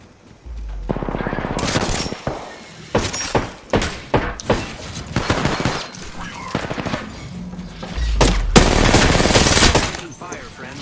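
Bursts of shooter video game gunfire crack loudly through the stretch, single shots and rapid volleys with heavy blasts near the start and end, while a voice talks over the action.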